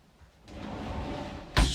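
A camper's shower doors on a 2021 Vintage Cruiser 19CSK swing open and shut, a soft rustling slide followed by a short, sharp closing knock at the end, close by.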